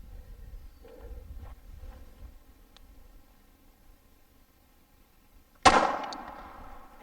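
Glock 26 Gen 4 fires a single Lehigh Defense 90 grain Extreme Defense 9mm round, one sharp loud report after a few quiet seconds, trailing off in a short echoing decay.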